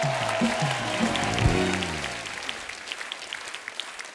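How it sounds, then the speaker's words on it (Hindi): Studio audience applause greeting a guest on a comedy talk show, a broad wash of clapping that fades gradually toward the end, with a voice and music-like tones heard briefly near the start. "जोरदार तालियां हो जाए अमीषा के लिए।"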